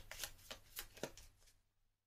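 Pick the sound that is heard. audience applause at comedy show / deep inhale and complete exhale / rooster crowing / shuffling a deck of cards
shuffling a deck of cards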